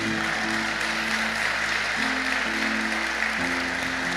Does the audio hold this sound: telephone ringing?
no